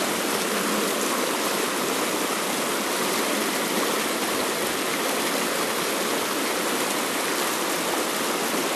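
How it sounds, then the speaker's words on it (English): A river stream in Connecticut, the Housatonic or Farmington, flowing steadily with a dense, continuous rushing hiss of water, near and even in level throughout with no voices. "Beautiful, beautiful river."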